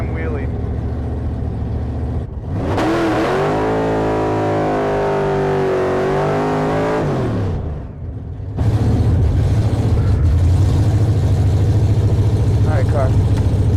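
A drag race car at a drag week event revs loudly, its engine pitch climbing and holding in a long sustained pull before dropping away, then a harsher loud engine roar resumes near the end.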